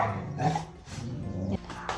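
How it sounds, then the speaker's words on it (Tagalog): Dogs bark and yip in a Filipino household, several short sharp barks spread through the moment, close and fairly loud with some whining between them. "Tapos meron pang mga aso na sobrang kasakay."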